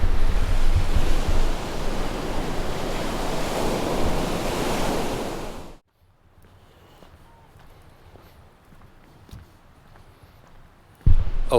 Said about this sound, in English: It's just the beach and the oceans and a couple ships